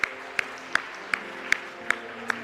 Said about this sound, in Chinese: 我们再次拍手来祝福他们。